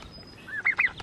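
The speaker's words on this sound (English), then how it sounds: "they're a Welsh Harlequin. They're actually one of the prettiest ducks." A Welsh Harlequin duck at a farm stop gives a couple of short, close nasal calls in quick succession after a brief higher chirp, with no talking over it.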